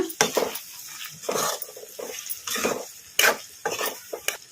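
A spoon stirs drumstick curry in a pan as the drumsticks fry in a little oil, giving close scraping and clinking strokes in uneven bursts with faint sizzling underneath.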